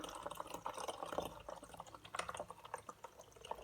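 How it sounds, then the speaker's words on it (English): Water trickling and splashing into the tank of a Morphy Richards iron station as it is filled, a faint, uneven pour with small drips, alone. "So we'll fill it up with water."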